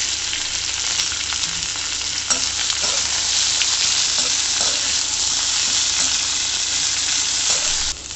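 Onion, ginger, garlic and green chili sautéing in a pan for mushroom gravy, a steady close sizzle and frying hiss with occasional stirring scrapes, continuous and without talk.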